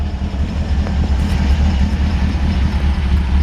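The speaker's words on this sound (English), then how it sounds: "Really, really nice sounding exhaust, dual exhaust." A 1954 Ford F-100 truck idles with dual exhaust, a deep, steady low rumble with a regular pulsing throb. It is close and fairly loud throughout, with no voices.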